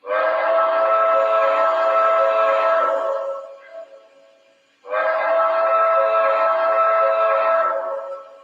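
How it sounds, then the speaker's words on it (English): The normal pull-down whistle of a model train engine gives two long, loud, steady harmonic blasts with a short dip between them, heard alone and up close. "if you use the normal pull-down whistle,"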